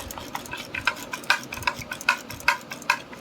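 Spoon stirring Ugadi pachadi, a chopped fruit mixture with apple pieces, in a bowl, giving a steady run of soft clinks and wet scrapes at a close, moderate level with no talk.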